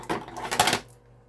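Paper being trimmed for a card craft project, a quick burst of crisp clattering slicing sounds lasting under a second, close and loud, then quiet.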